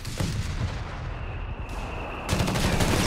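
Dense, continuous gunfire and heavy booming fire from a Company of Heroes 3 coastal battle, a loud wall of overlapping shots that swells sharply near the end.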